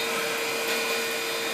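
A 40-watt wood burner flue blower motor runs steadily, blowing air with a smooth, constant whooshing hum and a faint whine on top, close and uninterrupted.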